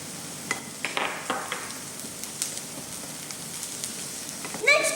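Chopped garlic and spring onion frying in a hot pan while making rock-and-roll cocktail paneer, with faint sizzling, soft stirring scrapes and a brief louder clatter near the end.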